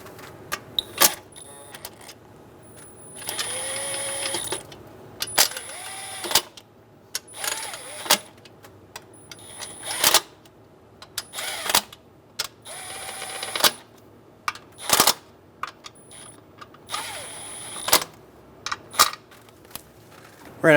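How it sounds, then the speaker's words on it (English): A ratchet clicks in repeated quick bursts while snugging intake manifold nuts and bolts on a 2003-2008 Honda Pilot engine, close and loud, separated by short pauses and metallic clinks. "Go around and snug all of the nuts and bolts down until they touch the cover."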